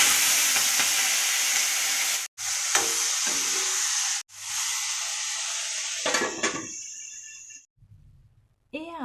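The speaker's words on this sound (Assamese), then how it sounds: "এতিয়া মই ফ্ৰেঞ্চবিনখিনি ইয়াতে ঢালি দিম" French beans hitting hot oil in a wok, a loud, dense hiss-and-sizzle broken by two brief pauses, then fading with some clatter and a voice near the end.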